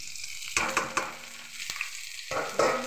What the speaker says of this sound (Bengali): এবারে গুগলি ভেজে নেব।